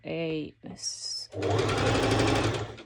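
Sewing machine stitching a lettuce edge hem, a loud close steady whirring run after a short stretch of someone speaking.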